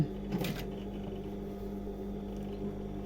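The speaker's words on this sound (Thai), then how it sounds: "พับตรงนี้ให้มันเท่าเดิม แล้วก็ดูข้างล่างด้วย เย็บทับรอยเดิม" A sewing machine stitching over an old seam on a jeans leg gives a steady, low mechanical hum with a brief louder rattle near the start, close and fairly quiet.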